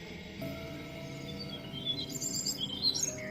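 Faint, high bird chirps rise over a steady, tonal background bed, suggesting a calm forest setting. The calls begin about halfway through and become more frequent toward the end.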